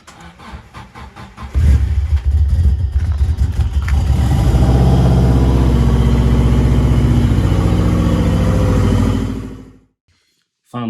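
Yamaha WR400F motorcycle engine ridden on rural green lanes, starting softly then surging into a loud, steady roar with a harmonic drone that holds and rises before cutting out abruptly near the end.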